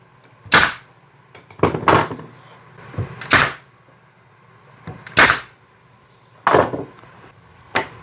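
A nail gun drives nails into a wooden board for a holiday planter, with about eight sharp, close pops in uneven succession, some in quick pairs, separated by quiet gaps.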